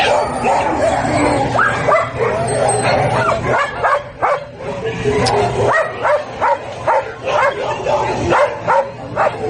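Playback of a dog being reunited with its owners: repeated yips, barks and high whimpers, loud and fairly continuous, with people talking over it in a podcast studio.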